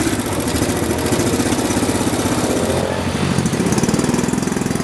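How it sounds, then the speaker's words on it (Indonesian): A motorcycle engine runs steadily at a low idle, a close, continuous chugging rumble with no voices over it. "Aku pengen naik motor ini aja"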